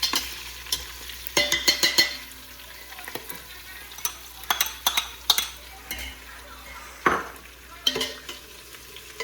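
Sesame seeds browning in a pan, with soft frying crackle under repeated scraping and clinking of a spoon stirring against the pan, close and fairly quiet.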